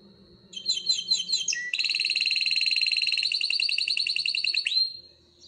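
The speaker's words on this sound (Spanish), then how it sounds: "De repente un majestuoso trino de ave interrumpió a la tortuga" Bird trill sound effect in a narrated children's environmental story, heard alone: a rapid bright warbling trill of repeated chirps that runs continuously for several seconds at close, steady loudness, then cuts off.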